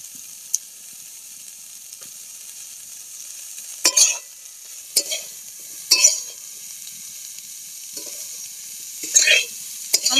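Cauliflower florets fry golden in a pan with a faint, thin sizzle. Several sharp spatula taps and scrapes come at irregular intervals, with no voices.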